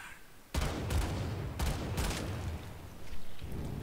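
Video game weapon firing, a series of heavy booming shots with rolling tails, about five blasts at irregular intervals, loud and close with no talk over them.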